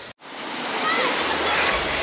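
Water flowing over the Crystal Creek rock slides, a steady broadband rush of shallow creek water over rock, close and loud, broken by a brief dropout near the start, with low rumbling building toward the end.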